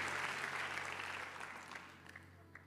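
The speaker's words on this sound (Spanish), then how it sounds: "Vamos, dale un aplauso a Dios." Applause from a church congregation during a Spanish-language sermon, a steady, fairly quiet wash of many hands clapping that slowly thins toward the end, with no voices over it.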